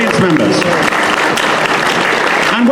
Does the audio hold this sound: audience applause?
yes